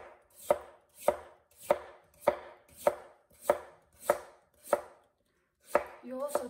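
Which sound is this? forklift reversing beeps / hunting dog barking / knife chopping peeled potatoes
knife chopping peeled potatoes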